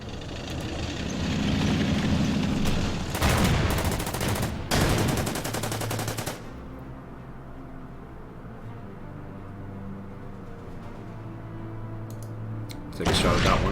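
Tank guns firing at a fighter aircraft in the Order of Battle desert campaign at Halfaya Pass: bursts of rapid rattling gunfire and heavy thuds, pausing to a low rumble before another burst at the end.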